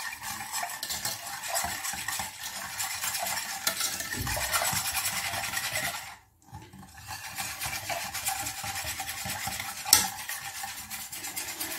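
A spoon stirs a dessert mixture of milk, sugar and cornstarch in a pot, a steady close scraping and swishing that pauses briefly midway and then resumes.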